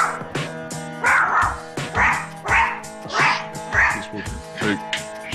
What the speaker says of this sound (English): If I give it to her when she's barking, then I'm nurturing that.